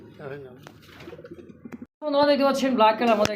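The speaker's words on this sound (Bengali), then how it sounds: "কবুতর দেখার মতো হ্যাঁ" Pigeons cooing at a pigeon seller's collection, soft throaty coos at first, then a louder cluster of overlapping calls close by; someone talks over them.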